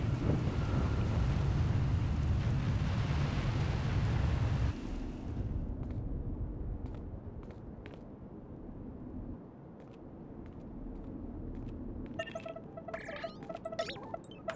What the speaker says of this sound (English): Looks like the storm's not letting up anytime soon.